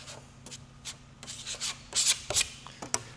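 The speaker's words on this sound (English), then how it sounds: "add some more build, always pulling the filler in the same direction" Plastic applicator drags body filler across an auto body panel in short scraping strokes, quiet close rubbing swipes in an irregular rhythm.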